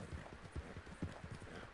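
Horse hooves clip-clop in a steady, even rhythm, each thud close and distinct over a faint background hiss, with no voices.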